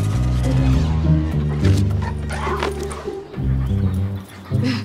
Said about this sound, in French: mauvais chien! Descends du canapé!